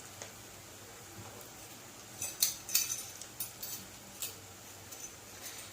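Sathumavu cutlets are turned in an oiled pan with a metal utensil, giving a quick run of light clinks and scrapes in the middle, faint over a soft background hum.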